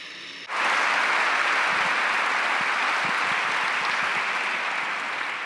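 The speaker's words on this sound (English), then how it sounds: "Please, another round of applause." A round of applause from an audience at a book event, starting abruptly and holding as a dense, steady wash of clapping that fades only slightly toward the end, with no talk over it.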